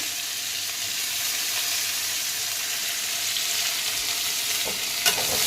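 Onion and green chillies fry in an oiled pan for a rohu fish curry, giving a steady, close sizzle throughout with a couple of sharp stirring scrapes near the end.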